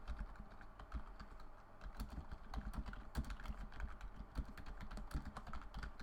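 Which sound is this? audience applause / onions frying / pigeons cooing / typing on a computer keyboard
typing on a computer keyboard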